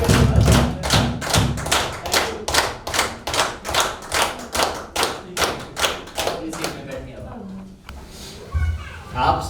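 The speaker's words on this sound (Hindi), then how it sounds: "थैंक यू जजेस के लिए तालियां" An audience at a training session on water supply scheme maintenance claps for the judges in loud, rhythmic unison. Sharp, evenly spaced beats continue for about seven seconds, then stop, and voices take over.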